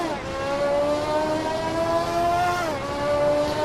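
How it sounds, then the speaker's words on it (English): A loud race car engine holds a steady high drone with a sharp gear-shift drop near the end, continuous and close, with no talk over it. "And oh my lord, this car is loud."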